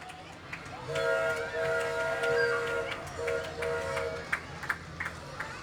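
A Shriners' parade train rolls past at an Independence Day parade in Ralston, its steady whistle-like tones sounding over crowd noise and outdoor rumble.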